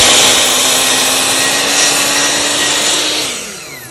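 DeWalt 10-inch 60-tooth miter saw blade slicing through wood: a loud, steady, dense whine of the spinning blade through the cut, close up, tailing off as it finishes, with no talk.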